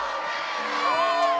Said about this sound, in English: It's just people cheering.